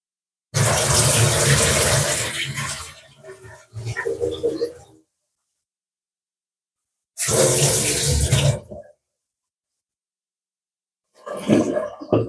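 Food being rinsed under a running kitchen tap before going into a pressure cooker, the water rushing loudly in two long bursts with a pause between and a brief third splash at the end.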